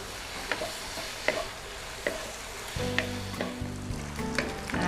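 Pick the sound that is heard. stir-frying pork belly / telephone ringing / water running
stir-frying pork belly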